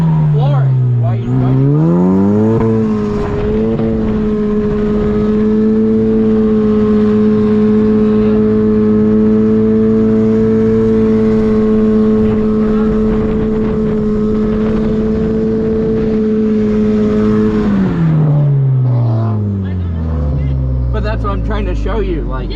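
A Ford Fusion engine revs hard while drifting, climbing to a loud sustained high-rev drone that holds steady, then falls away as the car slows, with people talking faintly under it.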